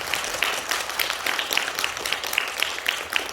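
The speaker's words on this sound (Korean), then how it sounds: "뜨거운 박수로 부탁드립니다." An audience claps warmly at a Korean discussion forum as a speaker is welcomed, a dense, steady patter of many hands kept up for a few seconds at moderate volume.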